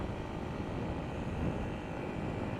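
Yamaha WR450 supermoto engine held at mid revs under heavy throttle, a steady, dense drone with a faint rise midway, fairly quiet and without voices.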